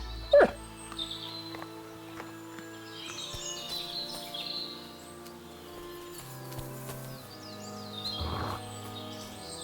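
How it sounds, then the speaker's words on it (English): A dog in the video game Kingdom Come: Deliverance II lets out a sharp bark, then softer whimpers and yelps amid game ambience with distant birdsong. "Aye, aye, you silly doggy."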